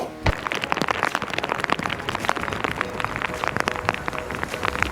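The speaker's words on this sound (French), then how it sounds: "Bon, c'est bien emmerdant, il pleut." Steady rain pattering on a surface during a Route 66 road trip in the USA, a dense, continuous patter of close drops with no talk over it.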